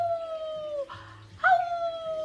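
A voice imitates a fox howling, giving two drawn-out, rising and falling howl calls close to the microphone, with a short pause between them.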